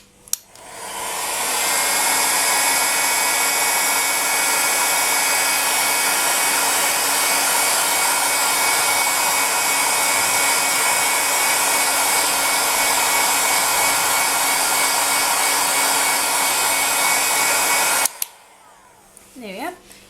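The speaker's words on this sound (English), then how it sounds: "I do want to show you though what you can do with a hairdryer or a heat gun." A hair dryer on its lowest heat and highest speed blows over polymer clay, a loud, steady whirring hum that ramps up, runs continuously for many seconds, then cuts off abruptly.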